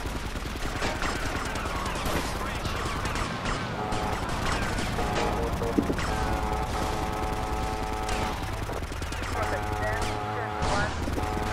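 Gunfire in GTA Vice City Definitive Edition during a chase, dense repeated shots over a busy game soundscape of music-like tones and clatter, steady and fairly loud throughout.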